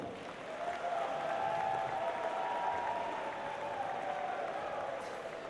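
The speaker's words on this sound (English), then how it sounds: "let's give a warm round of applause to the Boeing Company for their season sponsorship" A crowd claps at an opening ceremony for a state gymnastics-style championship, a steady moderate wash of applause that swells slightly and holds evenly, heard from within a large hall.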